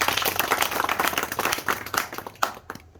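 An audience claps and applauds loudly and continuously for about three seconds, dense and close, fading slightly at the end.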